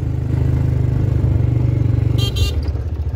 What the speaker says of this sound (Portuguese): Tira o dedo do acelerador pra mudar a marcha